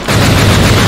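A pistol fires in the video game Project Warlock, giving a loud, close gunshot blast with a heavy low boom that fills the whole moment, and no talking.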